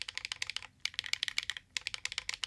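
Rapid clicky typing on a custom-built mechanical keyboard whose upper keys sound hollow, delivered in two quick bursts separated by a brief pause, close and clear with no talking.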